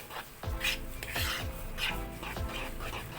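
Okra and leftover Chowking fried chicken being mixed in a bowl, with repeated soft scraping and clinking strokes at a steady hand-stirring rhythm, close and moderately loud, with no talk.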